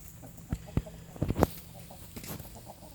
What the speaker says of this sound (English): They are such good chickens, man. Them Buff Orpingtons